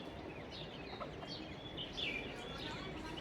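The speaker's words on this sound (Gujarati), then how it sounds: "સુંદર પક્ષીનો અવાજ આવતો હોય ત્યારે એટલી ખુશી થાય" Birds chirp outdoors under a cloudy sky, scattered faint calls over a quiet, steady background hum, with what may be a distant clucking fowl.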